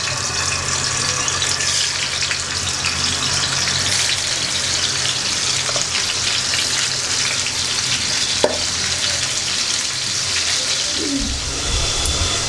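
Fish coated in turmeric, chili and salt frying in oil, a loud continuous close sizzle with a few faint clicks.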